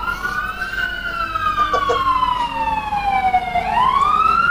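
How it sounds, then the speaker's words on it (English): A fire truck siren near a fire station in Norfolk wails as it passes, its pitch sliding steadily down and then sweeping back up, loud and continuous over faint road noise. "Yeah. Fire truck. We live near a fire department."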